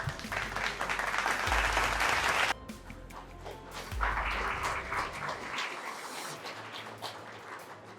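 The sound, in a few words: audience applause at award ceremony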